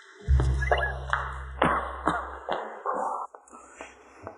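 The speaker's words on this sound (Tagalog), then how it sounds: "Bakit ka umuubo?" A woman coughing several times in a quiet room, a series of short sharp coughs and throat sounds close to the listener, with no talk over them.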